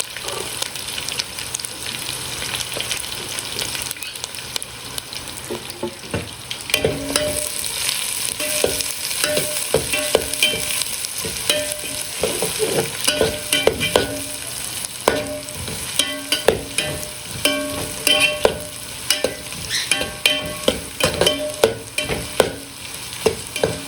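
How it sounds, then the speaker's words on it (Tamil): Small onions fry in oil for a Madurai-style fish curry, a loud close sizzle with frequent clattering stirs and scrapes running throughout, no voices. "வெங்காயம் நல்லா வதங்கணும்."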